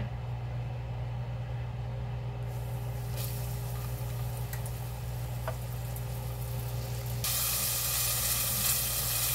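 Cornstarch-coated ossobuco fries in oil with a constant hiss over a low background hum, a few faint clicks, and the sizzle swelling louder near the end.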